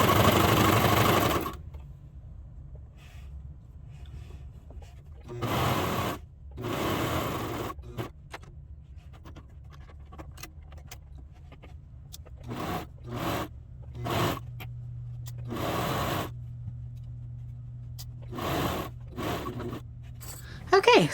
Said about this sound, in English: now I'm going to put it in my cover stitch